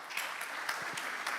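Brief burst of audience applause on the main stage of an innovation training summit, steady clapping from a crowd with a few sharper claps standing out.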